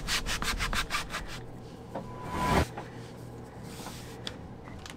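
Rhythmic rubbing strokes of sanding on a trawler's wooden cabin sides, steady back-and-forth passes at first, then a longer scraping pass before quieter, irregular scuffing.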